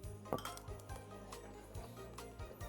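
Drinking glasses clink together in a toast at a casual Ilocano Christmas cooking gathering, a few light scattered knocks and chimes over a low background hum, without speech.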